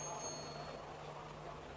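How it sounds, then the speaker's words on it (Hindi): A small bell rings faintly and briefly at a public speech event. A couple of bright, ringing tones fade quickly under a low, steady hum. "बार बार घंटी बज रही है"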